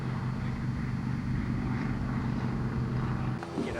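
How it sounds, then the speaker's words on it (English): A twin-engine airplane drones steadily and loudly, with a constant engine hum mixed with wind buffeting the microphone throughout. "There's no such thing as a twin engine plane that isn't fun."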